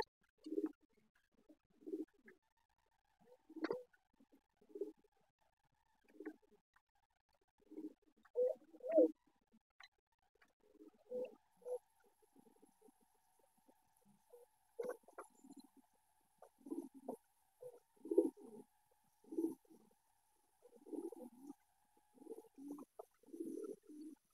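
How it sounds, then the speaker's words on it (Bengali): A male white King pigeon coos in repeated low throaty bursts, close and clear in a quiet room, with faint high background tones later on. "দেখেন নটটা কি সুন্দর করে ডাকতেছে।"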